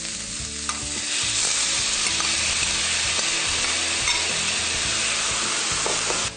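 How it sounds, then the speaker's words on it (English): Finely chopped onions fry in grapeseed oil with a steady, loud sizzle and a hissing spray. Faint stirring scrapes sound through it, and no one speaks. "So we're going to fry this until the onions are slightly brown."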